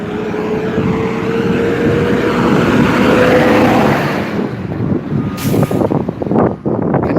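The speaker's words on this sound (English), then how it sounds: "Give me 1 second as this truck passes by." A truck passes close by on the road, its loud broad engine roar building and then fading away, with a brief hiss and rattling as it moves off. No one speaks.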